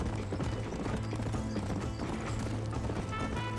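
Horse galloping in the video game Red Dead Redemption, with rapid steady hoofbeats under continuous game sound and music.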